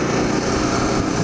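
A KTM 990 motorcycle on a night ride, its engine a loud, continuous close-up drone with a fast, even buzz and no pauses.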